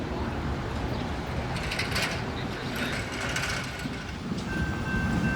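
A Norfolk Southern freight train, with locomotive NS 1111 among its units, rumbles past in Glendale as a steady broadband roar of wheels and cars, with brief metallic squeals and a faint tonal whine.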